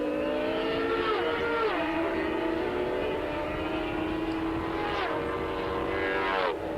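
Racing motorcycles from the 1986 Swann Series, two-stroke TZ750 and YZR500 among them, scream at high speed on a wet track, engines rising and dropping through gear changes, loud and continuous under faint commentary.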